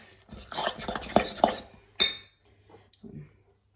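Spoon scraping and clinking against a bowl while stirring banana loaf batter with dark chocolate chips, a quick run of irregular taps and scrapes followed by a sharper clink and a few softer strokes, close and moderately quiet.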